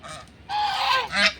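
Loud honking calls from a goose-like waterfowl, a few harsh nasal honks in quick succession, close by with no talking.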